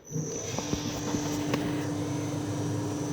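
A Colchester Master 2500 lathe motor, driven by a VFD on a single-phase supply, starts up and settles into a steady hum with a high whine, a few faint clicks and knocks as it spins up.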